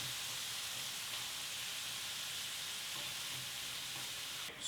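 Pieces of taco meat frying in a pan, giving a steady, loud broadband sizzle that holds even throughout with no talking.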